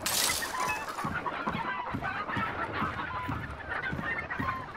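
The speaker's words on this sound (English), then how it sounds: "Chickens might be crying because it might be a player." Chickens clucking and crying in a barn area in the co-op shooter Hunt: Showdown, a steady chorus of fowl calls with rhythmic low thumps, fairly loud throughout and no talk over it.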